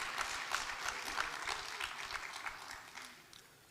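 Applause from the audience at a provincial education summit, a steady patter of many hands clapping at moderate volume that gradually thins and fades over a few seconds.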